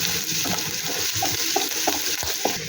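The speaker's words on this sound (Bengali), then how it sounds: "এরপরে আমি দিয়ে দেব আদা কুচি আর দিয়ে দেব রসুন কুচি। ভালো করে নেড়ে চেড়ে নেব।" Chopped ginger and garlic being stirred in hot oil in a pan for a cauliflower Manchurian, a steady bright sizzle with soft scraping and knocks of a spatula every half second or so, close up, without talk.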